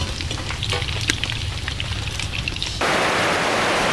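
Fish fried in a pan for a spicy prawn bhuna, giving a steady sizzling hiss with light stirring scrapes; the sizzle swells louder and denser near the end, with no voices.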